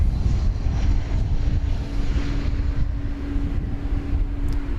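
An American Airlines Airbus A320 arriving at DFW airport, a steady broadband jet roar with a sustained low hum, constant and fairly loud throughout, with wind noise on the microphone.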